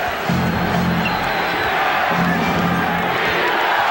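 A basketball arena crowd at the Forum roars during a 1991 NBA Finals game between the Bulls and Lakers, a loud continuous wash of cheering with rhythmic chanting pulses underneath.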